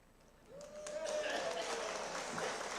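An audience breaks into clapping partway through, the applause swelling and holding steady under a voice that speaks over it.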